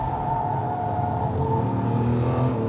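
A Lamborghini LP640 laps the Exotics Racing circuit in Las Vegas through a sequence of S-bends, its engine holding a loud, steady droning note with slight shifts in pitch, heard from onboard.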